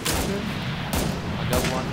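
Gunfire from the online shooter game Breaking Point, with two sharp broadband shots near the start and a third later in a two-second span, set over steady game ambience and low rumble, loud and fairly close.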